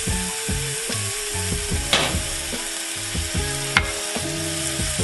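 Burger patty seasoned with salt and pepper sizzles steadily in a hot pan while a grilled cheeseburger cooks, a constant close frying hiss with a few sharper crackles and no talk.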